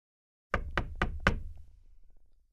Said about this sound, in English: Amami tapped gently on the door to her lab, despite it having already been left open.